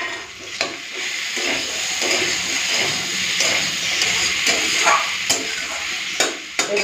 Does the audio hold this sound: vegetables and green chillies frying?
yes